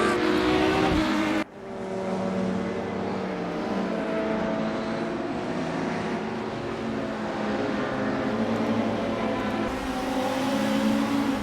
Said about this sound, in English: I think you'll be really surprised at how good the GT3 cars sound.